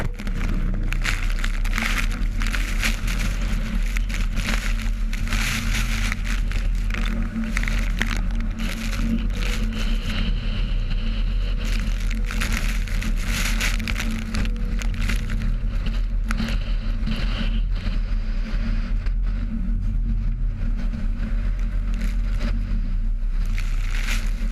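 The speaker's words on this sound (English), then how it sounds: "With every large wave, the giant ship rose and then fell, throwing massive amounts of water over the edge" Large ocean waves crashing over a 400-foot ship at sea, a constant loud wash of water and wind with rough surging bursts throughout, no voices.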